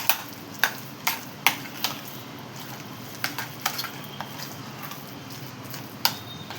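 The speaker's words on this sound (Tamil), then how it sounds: "போட்டுட்டு எல்லாத்தையும் மிக்ஸ் பண்ணிடலாம்" Yam mash being stirred and mixed in a pan, heard as a string of sharp spoon or ladle taps and scrapes at irregular intervals, close and fairly loud over a soft background hiss.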